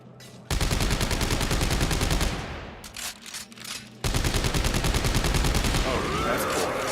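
Sustained rapid gunfire in the sci-fi survival horror game Dead Space 3, loud and dense bursts that pause briefly midway before resuming at full intensity.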